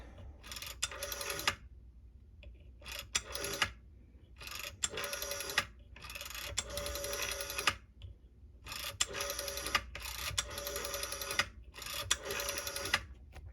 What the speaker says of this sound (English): I will dial a few numbers